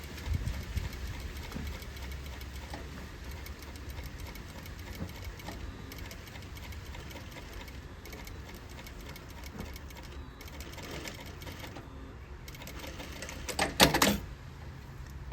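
A sewing machine stitching a Hong Kong bias bound seam, its motor running in a low, steady mechanical hum through the clip with a brief louder burst near the end, no speech heard.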